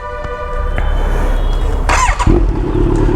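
A motorcycle engine started and idling, with a bike prepared for chain cleaning, a steady close low rumble and whine, then a clunk and deeper tone as first gear engages.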